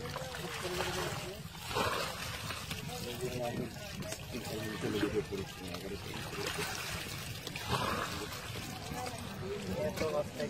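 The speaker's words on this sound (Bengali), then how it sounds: "জলগুলো এখান থেকে বের করে দিচ্ছে" Water is scooped and splashed out of a shallow beel while fishing for puti fish, with intermittent trickling and sloshing bursts recurring every few seconds under ongoing talk.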